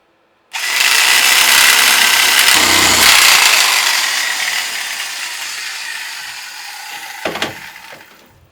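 A Sawzall reciprocating saw with its shoe missing, used to lop pieces of wood before lathe work: it starts abruptly and runs loud and close with a harsh buzzing drone, eases slightly toward the end, then a short clunk.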